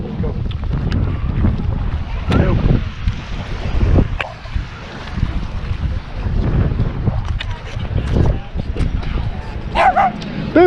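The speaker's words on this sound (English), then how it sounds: "You want to call your puppies over here?" Dogs barking outdoors on an island property during a tour, several loud sharp barks and yips scattered among talk, with wind buffeting the microphone.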